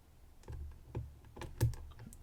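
Metal lock pick working the pin stack inside a lock, giving a handful of faint, sharp clicks and small taps spread irregularly over a couple of seconds against a quiet background, with no voices.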